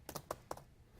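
Fingers type on a computer keyboard, four or five quick, crisp key clicks in an uneven burst, close and quiet, then silence.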